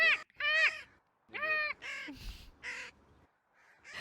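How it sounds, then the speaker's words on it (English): Several crows caw nearby, harsh croaking calls in short bursts with brief pauses between them, some rougher and gurgling. "I just really like crows, man. I like the noises they make. They make funny noises."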